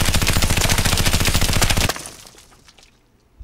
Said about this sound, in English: So let's shoot this.